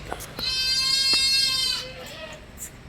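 A crossbred mother goat with her young gives one long, loud, wavering bleat close by, followed by a few fainter calls and soft background noise.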